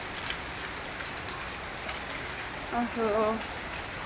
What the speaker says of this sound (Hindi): ये देखो कितनी बारिश आ गई